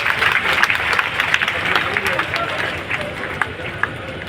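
A large crowd at the Banas Dairy general meeting in Deodar claps in a sustained, uneven wave of applause with scattered sharper claps, while a speaker's amplified voice carries over it.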